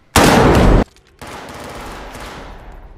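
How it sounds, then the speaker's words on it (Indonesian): Loud gunfire from a film shootout, a dense burst of rapid shots lasting under a second, followed by a quieter, rumbling aftermath of noise. "Saat baku tembak terjadi"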